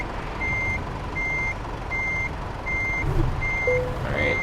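Truck reversing beeps in Euro Truck Simulator 2, five or six evenly spaced electronic beeps at a steady rhythm over a low rumbling engine idle, clear and moderately loud.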